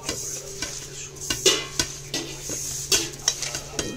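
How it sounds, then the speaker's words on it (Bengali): Grated coconut being kneaded with sugar by hand, giving soft, repeated squelching and rubbing strokes at close range, with occasional light knocks against a bowl and no talking. "এবার ভালো করে আমি নারকেলটাকে মেখে নেব।"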